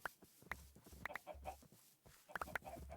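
Chickens cluck in the video game Stone Block 4, short sharp clucks in an irregular rhythm over a low, faint background hum.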